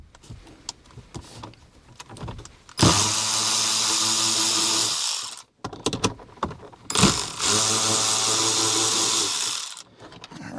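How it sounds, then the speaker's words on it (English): Electric socket driver backing out the dash screws on a 2024 Ford F150 4x4 5.0L: two steady whirring runs of a few seconds each, separated by quieter handling clicks and rustles. "I'm using an electric, and remove the two bolts or two screws that are in the dash holding down the plastic liner."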